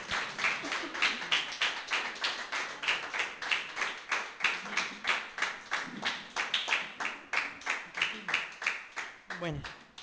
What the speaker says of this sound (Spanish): Démosle una ofrenda de palmas al Señor, mis amados